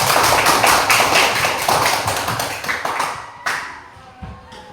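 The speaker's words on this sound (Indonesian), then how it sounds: "Sekali lagi kita berikan tepuk tangan" A classroom audience claps for a group's coaching presentation, a burst of brisk hand clapping that thins out after a few seconds into a few last claps.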